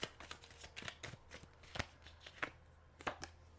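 Tarot cards shuffled close by, making quick riffling flutters and sharp snapping taps in bursts, quiet and with no talking.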